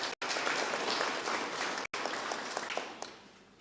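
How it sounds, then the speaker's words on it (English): Applause from an audience at a regional state address in Kavango West, a dense steady patter of many hands clapping, briefly cut twice and tapering slightly toward the end. "Round of applause again."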